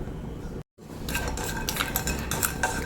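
Asafoetida being stirred as it roasts in a pan for rasam powder, heard as a steady run of light scraping and clinking of a spoon against metal, close and alone, after a brief silent gap near the start.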